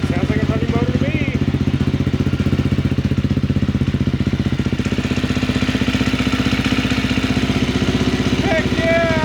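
A KTM 350 EXC-F dirt bike engine running after a top-end rebuild, a loud close idle with a rapid, even, slightly clattery pulse throughout, and brief voices faintly over it.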